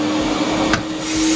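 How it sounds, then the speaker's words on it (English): A professional carpet cleaning machine's two vacuum motors run with a steady, droning whine and a constant hum, with a brief sharp burst of noise midway through. "If I switch both the vacuum motors on here,"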